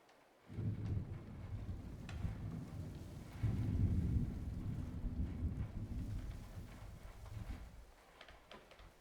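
Rain falling with rolling thunder in a murder-mystery video game: a steady wash of rain under low, rumbling thunder that starts abruptly and swells midway, with no voices.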